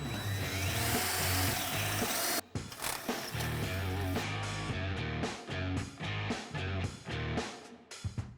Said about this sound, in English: we're also going to drill a 3/8 hole up top